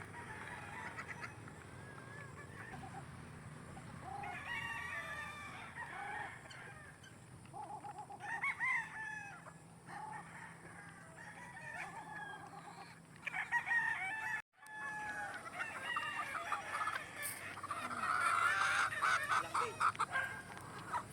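Chickens and roosters on a Philippine gamefowl farm crow repeatedly and cluck, with goose-like honks mixed in, at mid distance in a continuous outdoor din.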